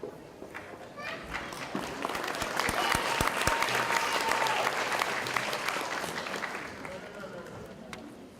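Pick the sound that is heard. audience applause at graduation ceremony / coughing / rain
audience applause at graduation ceremony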